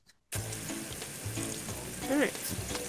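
Bacon sizzles on a griddle in the cooking video game Clash of Chefs, a steady frying crackle that starts abruptly after a short silence and keeps going, with a brief tonal game blip near the end.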